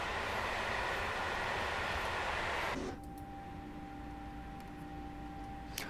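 Freight train hauled by a Dispolok through the Spessart in Train Sim World 4, a loud broad rumble that drops sharply partway through to a quieter cab hum with a faint steady tone and occasional clicks.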